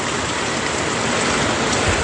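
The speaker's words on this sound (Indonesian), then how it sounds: "saat ini hujan sangat deras" Very heavy rain, reported alongside strong wind, pours down as a loud, steady, unbroken roar throughout, with no voices.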